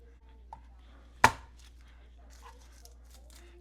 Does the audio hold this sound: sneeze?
no